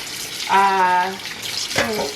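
Beef for mechado is rinsed under running tap water in a kitchen sink before marinating, a close, steady splash and trickle with a brief voiced sound partway through.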